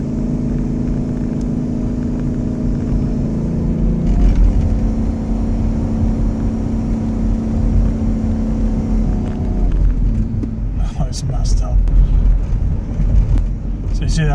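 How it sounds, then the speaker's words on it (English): A 2008 Ford Explorer engine with a slipping transmission, revving loud and steady for long stretches as the RPM climbs while the vehicle barely moves, with speech under the drone. "Car's not moving and the RPM's going up."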